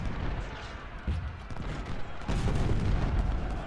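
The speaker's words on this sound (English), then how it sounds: "Laumann's volley will do some damage here." Musket volleys in the American Civil War strategy game Ultimate General at the Battle of Shiloh, a dense rolling rumble of distant gunfire with booming bursts building steadily louder, no voices.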